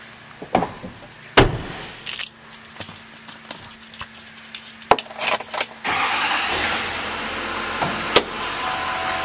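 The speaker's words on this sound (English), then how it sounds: "Now we'll start up this vehicle." A 2011 Chevrolet Silverado 2500 with a 6.6L diesel engine starts up after keys jangle and clicks sound, then the engine catches and settles into a steady, close idle.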